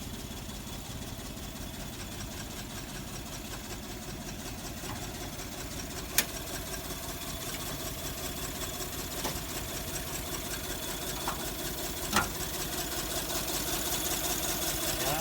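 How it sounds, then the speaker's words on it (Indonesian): A 1981 Daihatsu Charade G10 idles steadily with an aftermarket racing exhaust, its low, even engine rumble running continuously up close, with a couple of brief sharp clicks along the way. "Knalpotnya udah racing ya."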